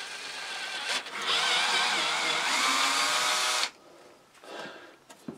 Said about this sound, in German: jetzt mache ich mit einem Gewinderschneider da ein Gewinde rein.